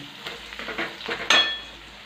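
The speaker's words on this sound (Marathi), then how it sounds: "अर्धा चमचा हळद चवीनुसार मीठ थोडीशी कोथंबीर टाकून मस्त परतून घेणार आहे" A spoon stirs and sautés besan mixture with cumin, turmeric, salt and coriander in a hot pan, giving soft, intermittent scraping and faint sizzling, then a sharper metallic scrape-clink partway through.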